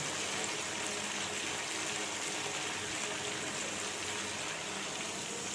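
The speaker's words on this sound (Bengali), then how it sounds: "এবারে আবারও একটুখানি জল দেব।" Steady, loud gushing stream of water poured into a cooking pot on a high flame, continuous and close without pause, with no talking.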